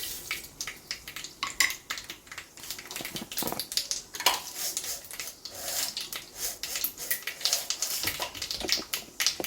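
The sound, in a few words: mustard seeds added to hot oil in a curry pot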